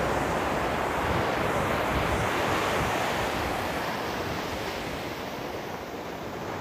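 Steady roar of ocean surf breaking on a beach with wind buffeting the microphone, a dense continuous wash without pauses, close and fairly loud.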